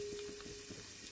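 Tempering seeds fry in hot oil, a short burst of close, steady sizzling with small crackles and a faint tone running beneath.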